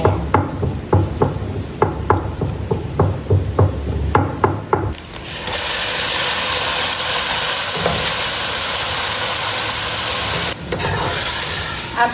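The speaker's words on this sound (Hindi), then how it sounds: "इनको पीस के डालेंगे हम कीमे के अंदर" A kitchen grinder pulverizes fennel and spices for keema. A run of rhythmic clicks gives way to a loud, steady whirring roar that holds for several seconds with a brief dip near the end.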